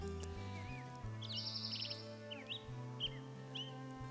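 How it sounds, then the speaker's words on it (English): Black-headed grosbeaks call in the distance from woodland habitat on Vancouver Island, giving brief rising and falling chirps and short songs. The notes come and go over a steady low rumble of background noise. "Those black-headed grosbeak calling in the distance there."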